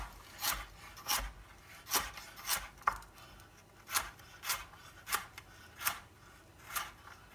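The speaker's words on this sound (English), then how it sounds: "Half, split it here, and then we'll slice it." A knife slices through food on a cutting board during prep for red wine beef bolognese. The cuts are quiet, rhythmic scraping strokes about every half second, close by, with no talking.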